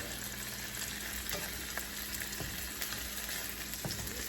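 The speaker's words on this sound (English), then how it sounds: "Let's get this chicken going. And here my pan is hot, just barely." Chicken tenders frying in a hot pan over medium-high heat, a steady, dense sizzle and crackle with occasional scrapes, close and continuous, no voices.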